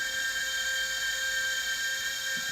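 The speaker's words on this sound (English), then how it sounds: "As you can see, it's actually got quite a low idle," A small model engine on an RC aircraft idles low and steady just after start-up, giving a continuous high-pitched whine with a fixed tone that stays even and close throughout, with no talking.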